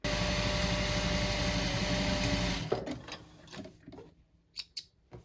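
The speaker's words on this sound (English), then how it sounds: "I'm going to start from one end and sew it up along there, along the top, back down the side" A sewing machine stitches a rucksack pocket with a fast, steady mechanical whir that runs for over two seconds and then stops, followed by a few quiet clicks and handling knocks.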